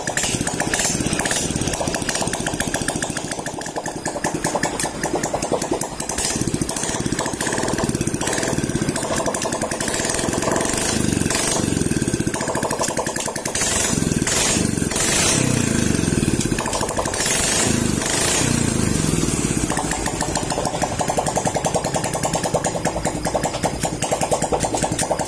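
A Suzuki Raider J 115 motorcycle engine runs with the exhaust removed, giving a loud, raw, rapid rattling roar that holds steady close up, with revs rising and falling. The engine has a strong oil leak and jumps out of third gear.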